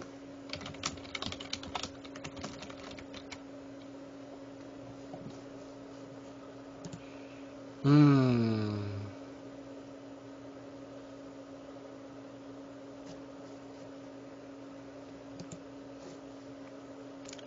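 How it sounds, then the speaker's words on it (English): Scattered light clicks of computer keyboard typing during an online Go game continue in the background over a steady hum, with a brief louder tonal sound interrupting midway. "You can hear me typing in the background occasionally"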